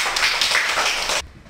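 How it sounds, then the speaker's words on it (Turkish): Brief burst of clapping from a small group honoring the winner of a children's math quiz game, lasting about a second before cutting off. "Alkışlıyoruz."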